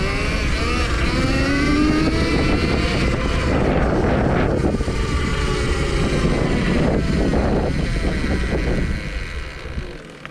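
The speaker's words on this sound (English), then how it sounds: "I'm just holding the throttle open now." An Electric Motion Escape electric trials bike runs at open throttle, a rising electric whine layered with wind buffeting on the microphone, close and loud, fading as it slows at the end.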